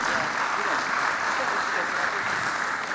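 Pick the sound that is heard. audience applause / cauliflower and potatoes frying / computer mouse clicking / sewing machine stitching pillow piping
audience applause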